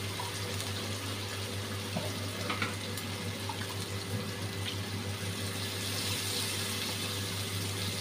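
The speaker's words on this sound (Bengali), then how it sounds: "একটু জল দিয়ে দিচ্ছি।" Water streams into a pan of chicken curry masala with onion, tomato, ginger, green chilli and black pepper, a faint, continuous pouring rush over a low background hum with no voices.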